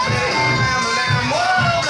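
A wrestling crowd murmurs and cheers steadily while waiting for Warhawk's entrance, a continuous arena roar with faint whoops rising over entrance music.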